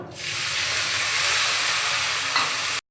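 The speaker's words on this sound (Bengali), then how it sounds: "রসুনটা ভেজে নেব।" Garlic paste frying in a pan sizzles in a steady, loud, continuous hiss that runs unbroken for nearly three seconds before cutting off abruptly.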